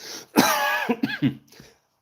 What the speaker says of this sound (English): Of course this dry cough is happening.